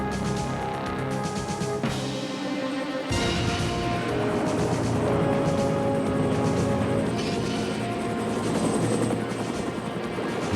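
Military helicopters flying over a Vietnam War helipad near Chu Lai, a loud continuous rotor thrum and engine whine that swells after a sudden cut, with no talk.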